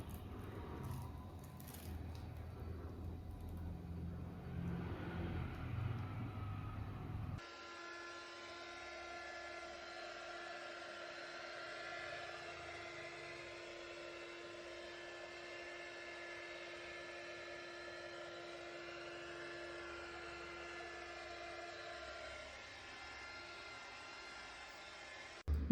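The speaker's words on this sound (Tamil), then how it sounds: "இந்த பபிள்ஸை வந்து நம்ம ப்ளோ கன் வச்சு பர்ஸ்ட் பண்ணி விட்டுறோம்" A blow gun hisses steadily against resin to burst surface bubbles, a soft continuous airy rush following a busier noisy stretch, faint and close with no talk.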